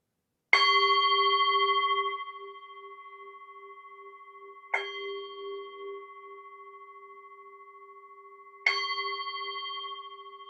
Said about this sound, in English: So now I will ring the bell